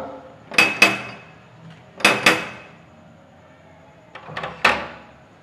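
Knocking on a closed door comes in three separate bursts of two or three sharp raps each, loud and close, with quiet between the bursts.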